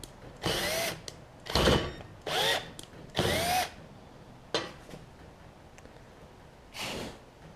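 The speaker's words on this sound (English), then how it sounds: "Hopefully I didn't drill too far in." Several short bursts of a power drill whirring as it drills into a Mantis tiller to fit a kill switch, each about half a second, with brief pauses and a final fainter burst near the end.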